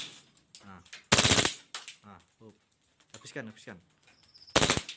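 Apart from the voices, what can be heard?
Glock automatic pistol firing full auto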